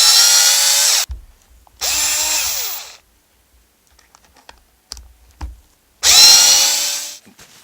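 A power drill drives screws into an RC car kit, the Losi 5ive T, in three loud close whirring bursts of about a second each, separated by quiet gaps with faint handling clicks.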